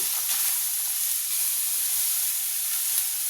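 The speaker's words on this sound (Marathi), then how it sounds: "आपल्याला थोड्याशा बारीक गॅसवर हे छान परतून घ्यायचे तुपामध्ये" Carrots sauté in ghee over low heat for gajar halwa, producing a soft, even hissing sizzle that holds steady from start to finish without speech.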